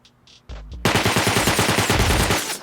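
Nail gun auto-turrets in a video game open fire in a fast, steady burst of sharp repeated shots, loud and close, lasting about two seconds after a couple of brief softer sounds.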